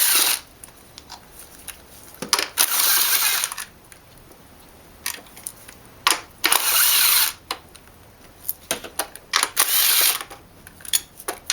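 Ratchet removing the nuts on the ignition coils of a BMW E36 engine: several loud close bursts of fast clicking, each lasting about a second, separated by brief quiet pauses.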